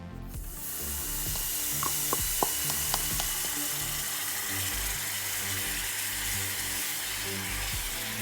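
Honey hitting a hot pot and sizzling, a steady close frying hiss that carries on throughout, with a few faint clicks early on.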